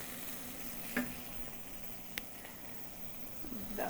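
Garlic fries in a pan over lowered heat, a steady soft sizzle running throughout with a few faint clinks of a utensil, fairly quiet and close with no talking.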